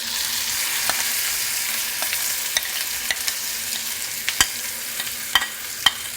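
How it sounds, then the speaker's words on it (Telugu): Curry leaves crackle and sizzle in hot oil in a pan while tempering for radish chutney, a steady frying hiss broken by sharp pops that grow louder and more frequent toward the end, with no talking. "బాగా కాలింది కాబట్టి కరివేపాకు కూడా వేలుతుంది"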